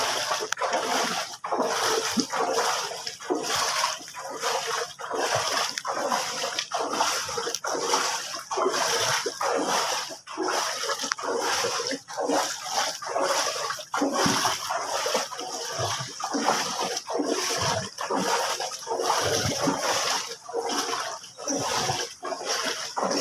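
Deep floodwater on a road being waded or driven through, continuous rhythmic splashing and sloshing throughout, fairly close and steady with occasional louder surges.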